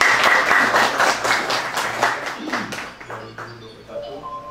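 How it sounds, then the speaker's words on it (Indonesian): An audience at a village election committee inauguration ceremony claps, a burst of applause that fades over a few seconds. "Boleh tepuk tangan."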